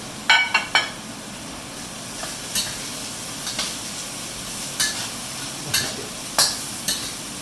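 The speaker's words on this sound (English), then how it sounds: "bitter melon, mix in with your black beans really well. Give it a good coat with the oil." Bitter melon stir-fried with fermented black beans in oil, a steady low sizzle broken by repeated scraping clatters of the spatula against the pan at an uneven rhythm.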